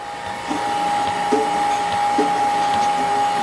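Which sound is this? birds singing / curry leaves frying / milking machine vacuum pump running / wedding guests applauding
milking machine vacuum pump running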